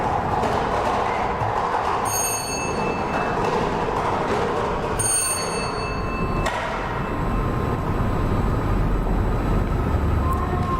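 A small lottery drawing device spun by staff during a live Lao lottery draw gives a steady, loud mechanical rumbling whir that runs continuously, with a few brief metallic ringing accents and no talking.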